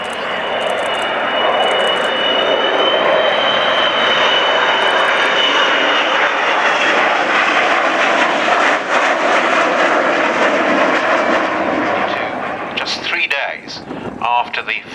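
Avro Vulcan B-2 jet bomber flying at the RNAS Culdrose airshow, a loud continuous jet roar with a rising, howling whine that holds steady, then breaks into wind buffeting near the end, while a voice talks over it.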